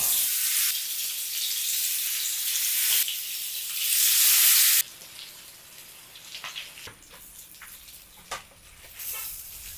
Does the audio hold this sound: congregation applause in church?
no